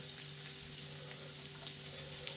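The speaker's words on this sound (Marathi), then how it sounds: "लसूण चांगला लाल होऊन द्यायचा" Garlic fries in hot oil in a pan, giving a quiet, steady sizzle with a few faint pops and crackles close by.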